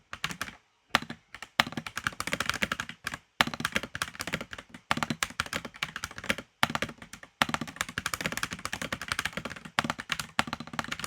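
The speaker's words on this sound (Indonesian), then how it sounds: "Nah kalian bisa denger sound test dan dalaman dari keyboard ini ya." Typing on a DarkBeacon FLUX 87 Hall-effect mechanical keyboard with a flex-cut plate, a dense run of close, crisp keystrokes in quick bursts broken by short pauses, with no talking.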